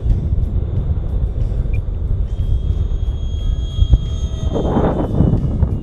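A radio-controlled model airplane makes a high-speed pass outdoors on a windy day, its motor buzz swelling toward the end over a constant low wind rumble, with no voices.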